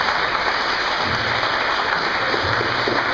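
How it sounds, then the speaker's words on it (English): A dense, steady wash of audience applause greets a speaker introduced to talk about Disney World, loud and continuous with no individual claps standing out, running throughout without a break. "Let's give him a round of applause"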